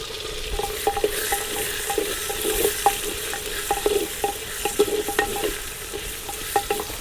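Onions and green chillies, added after golden-fried urad and chana dal, fry in a pan for salted rice upma while a spoon stirs them, with a continuous sizzle and frequent light clicks and scrapes close by.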